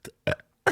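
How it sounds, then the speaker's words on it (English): Three short, abrupt burps come in quick succession from a man close to the mic. They are loud, choppy bursts separated by brief silences. "Let me do a nicer burp."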